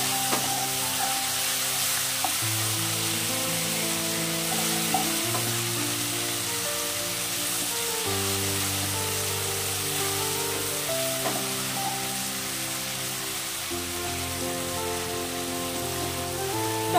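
Green chillies and chui jhal frying in a pan for a cabbage dish, a steady close sizzle that crackles evenly for a long stretch, under a continuous tonal background, with no one talking.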